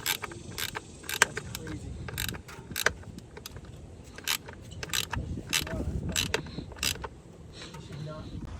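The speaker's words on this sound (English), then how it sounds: "and then just tighten it down. Let me grab my wrench." A hand wrench ratchets repeatedly while tightening a bolt, giving sharp, close clicking bursts over a low mechanical background, with a brief spoken exclamation in between.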